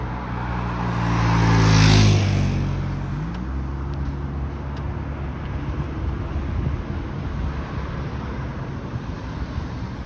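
A double-decker GO bus rumbles past on Sheppard Avenue West in Downsview, its low engine swelling loud and close around the second mark before fading into steady street traffic noise.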